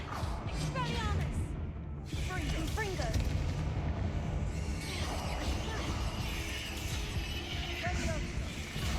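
Blasts and crackling magic in Hogwarts Legacy, including the Confringo explosion spell, rumbling continuously amid a busy fight with other spell effects and a voice talking over it.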